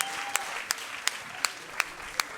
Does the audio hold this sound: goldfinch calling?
no